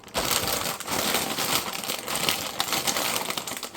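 A bag of salt and vinegar popcorn being wrestled open, giving steady close-up crinkling and crunching of packaging for several seconds, with no speech.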